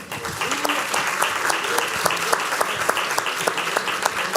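A conference audience applauds with dense, sustained clapping, steady and fairly loud, without breaks for the full duration.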